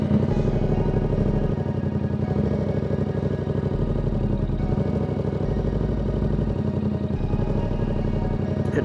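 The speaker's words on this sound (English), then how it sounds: "if you keep pushing the bike back while you're trying to slip it to go forward, it's just gonna stall out" A motorcycle engine labours and clatters at low revs as the rider slips the clutch while the bike is pushed back, running steady and close without a clear cut-out.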